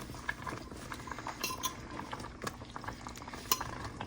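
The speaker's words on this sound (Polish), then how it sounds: "Po pół godziny teraz dosypię pieczarki." Mushrooms go into a pot of pork ribs slowly stewing on low gas. A spoon stirs with scraping and bright metallic clinks against the pot over a low simmering bubble, and no one speaks.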